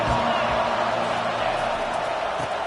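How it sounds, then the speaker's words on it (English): Dense stadium crowd roar at a college football game in NCAA 25, a loud, continuous wash of cheering noise with a faint voice underneath. "This crowd bringing the energy and noise early."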